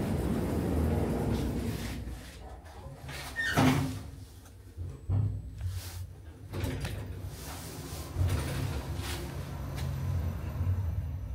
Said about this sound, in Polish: Zamykanie drzwi.